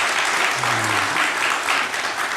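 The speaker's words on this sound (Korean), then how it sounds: "Let's welcome them with a round of applause." A church congregation claps together in sustained applause, a dense, even patter of many hands filling the room throughout.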